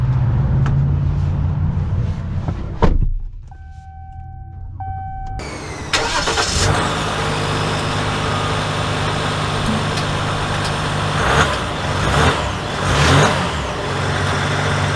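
A 2023 Ram 1500 Limited Elite pickup truck's engine cranks and catches after a brief quiet moment, then settles into a loud, close idle and builds into a steady running hum as the truck pulls away.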